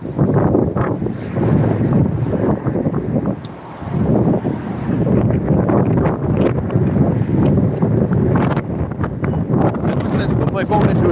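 Heavy wind buffets a phone microphone outdoors at a protest, a dense, loud rumbling roar that runs almost continuously, dipping briefly once before surging back.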